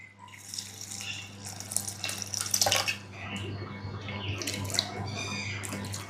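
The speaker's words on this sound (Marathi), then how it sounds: "हे पोहे नेहमीप्रमाणे अगोदर आपण धुवून" Flattened rice (poha) being washed in a bowl of water, a continuous splashing and sloshing with swirling water rising and falling, close by and with no talk.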